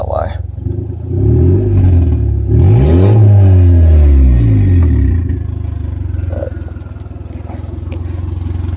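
Turbocharged Honda Civic with a DIY eBay turbo kit and a loose throttle cable, idling roughly before revving up and back down twice in rising and falling sweeps, then settling into a lumpy idle, with someone talking over it.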